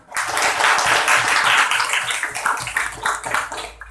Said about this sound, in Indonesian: tepuk tangan dulu untuk Nadia